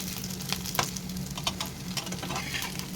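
Bitter gourd pakoras frying in oil on medium-low heat, producing a close, steady sizzle with small scattered pops and light ticks, without any talking.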